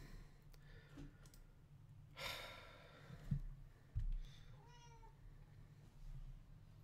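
A house cat lets out a short meow indoors, a brief nasal cry standing out over a low steady room hum, with a few soft clicks and rustles around it.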